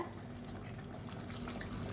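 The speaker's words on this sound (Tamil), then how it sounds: "இந்த ஸ்டேஜில் தண்ணி சேர்த்துக்கலாம்" Hot water pours steadily into a simmering mutton kulambu, a soft continuous splashing and trickling of liquid, fairly quiet, with no talk.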